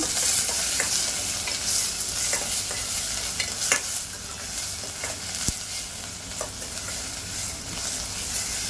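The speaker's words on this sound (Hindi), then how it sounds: "प्याज डाल के सौटे कर लेंगे अच्छे से।" Onions sauté in a pan for malai chicken seekh kabab gravy, a steady sizzle running throughout with repeated scraping stirs of a spoon, close and moderately loud with no talking.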